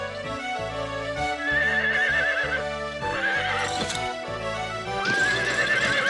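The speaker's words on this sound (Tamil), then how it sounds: "ஆனா உங்களால என் குதிரை ஸ்டாலினுக்கு லாடம் கட்டுறது அவ்வளவு சுலபமான விஷயம் இல்லைன்னு நான் நினைக்கிறேன்." A cartoon horse whinnies three times in loud, wavering calls over a steady, rhythmic clip-clop of hooves, from an animated Tamil-dubbed children's tale.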